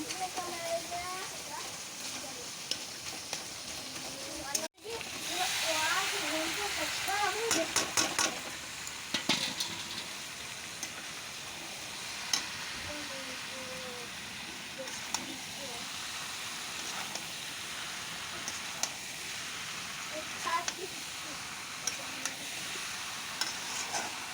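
Vegetable curry with tomatoes stir-fried dry in a pan gives a steady soft sizzle with occasional scrapes and clinks of stirring, preceded by a sharp bang as the food is tipped in, with a voice talking faintly at times.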